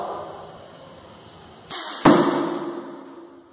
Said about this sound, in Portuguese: no ar comprimido, pessoal, dá uma pressão boa, parece um tiro